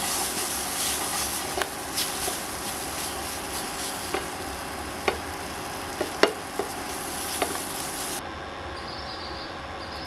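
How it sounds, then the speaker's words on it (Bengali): Mung dal being stirred in a pan with a spatula over a steady hissing sizzle, with sharp scrapes and taps of the spatula against the pan at irregular intervals. "এরপর একটি খুন্তি দিয়ে মুগ ডালটা ভালোভাবে নেড়ে নেব।"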